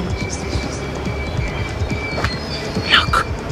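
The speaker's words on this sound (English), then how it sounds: "Oh, that's just a train." A train passing near a farm makes a steady, broad rumble that fills the clip, with a brief higher screech of wheels toward the end.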